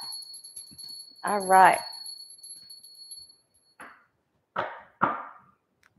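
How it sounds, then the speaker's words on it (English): A small bell is rung at the start of a live tarot reading show. Its bright tone lingers for several seconds while a voice speaks briefly over it, then a few soft knocks follow. "Let's ring that bell."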